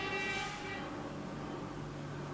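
A vehicle horn blares outside an apartment, a loud sustained tonal honk that fades into steady street noise, with no talking.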